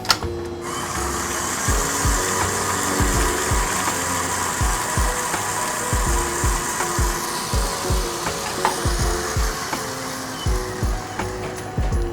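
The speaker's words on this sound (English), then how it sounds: "while it's whipping, after you scrape the bowl, you're going to put your egg whites in there and let it mix just a little bit more" An electric stand mixer whips batter steadily in a bowl with egg whites added, a loud continuous motor whir with a rhythmic thumping beat of the beaters throughout, no talking.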